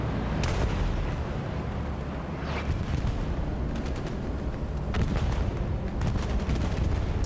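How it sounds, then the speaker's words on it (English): A bombing run strikes in the Hell Let Loose video game on the Hill 400 map. Dense explosions and gunfire rumble continuously, with several sharper blasts cutting through a heavy low boom, and no voices. "Bombing run coming through last second"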